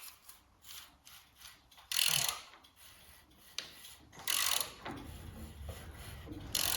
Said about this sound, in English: I took the front tin off here so that I can fit my ratchet on